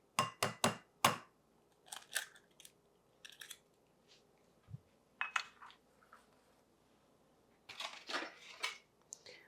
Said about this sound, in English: we're going to whisk the egg a little bit just to break it up